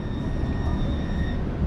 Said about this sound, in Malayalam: അപ്പോൾ ഇങ്ങനെ ട്രാം നീങ്ങാൻ തുടങ്ങി